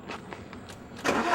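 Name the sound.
car engine starting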